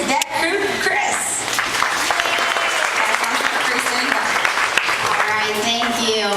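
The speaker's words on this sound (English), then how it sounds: "I want to hear a nice big round of applause for our Captain Tony and his deck crew" A backlot studio tour audience applauds loudly and continuously, a dense wash of clapping with scattered cheers and a voice or two mixed in.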